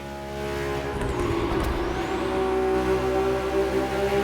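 Sports car engine in The Crew Motorfest echoing through a tunnel, a loud steady drone that swells into a rising rev with a reverberant hum, with no speech.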